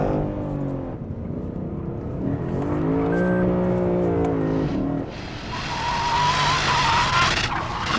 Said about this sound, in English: Okay, that was a nasty drift from that thing.